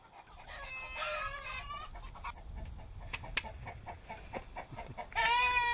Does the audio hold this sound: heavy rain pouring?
no